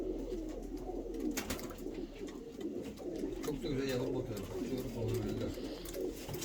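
Mantolu pigeons raising chicks coo in low, steady rumbling phrases close by, with a voice talking over them throughout and some background noise.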